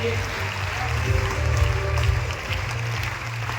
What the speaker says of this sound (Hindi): एक बार जोरदार तालियां हो जाए डॉक्टर शर्मा जी के लिए, ईश्वर जी के लिए